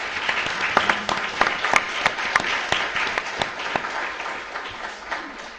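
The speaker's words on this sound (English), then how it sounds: "Round of applause for all the speakers first." An audience applauds panel speakers at a summit session on decentralised technology and Web 3.0, a steady patter of many hands with sharp individual claps standing out, loud and close, lasting throughout.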